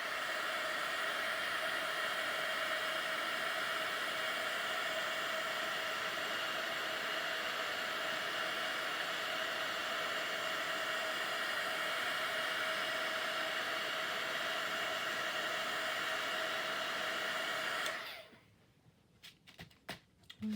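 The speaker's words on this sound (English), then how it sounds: "Let me hit that real quick with the heat." Heat embossing tool blowing hot air over embossing powder on a paper collage, a steady, close, hissing whir running unbroken before cutting off abruptly near the end, followed by a few faint clicks.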